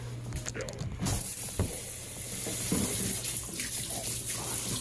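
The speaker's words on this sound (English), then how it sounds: "Wash my hands so I don't contaminate the thing of honey" Hands are washed under running tap water in a home kitchen during BBQ chicken prep, with a steady hiss of flowing water and soft splashing that starts after a short clatter and carries on at close range.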